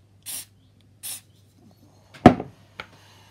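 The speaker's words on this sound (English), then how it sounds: "Just a squirt of accelerator." Glue accelerator sprayed onto a thin edge of a Tamiya 1/32 Mosquito model part: two short, separate hissing squirts, followed by faint handling clatter.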